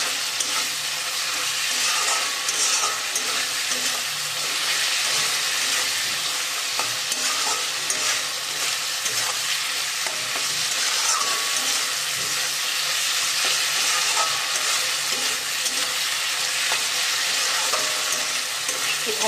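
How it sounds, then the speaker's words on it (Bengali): Spices sizzle in hot oil in a pan on a gas stove while they are stirred. A continuous bright frying hiss runs throughout, with scattered scrapes and clinks of the spoon against the pan. No one speaks. "আমি সব মশলা দিয়ে দিয়েছি, খুব সুন্দর করে নেড়ে চেড়ে নেবো"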